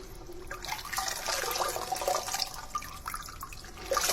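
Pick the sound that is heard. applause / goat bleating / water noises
water noises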